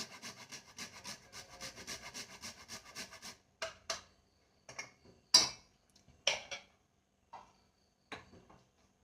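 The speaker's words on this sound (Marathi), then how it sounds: "जायफळ असलं तरी जायफळ पण खिसून टाकायचं." Nutmeg grated by hand, a steady run of rhythmic rasping strokes that then break into slower, scattered scrapes with pauses, close and fairly quiet.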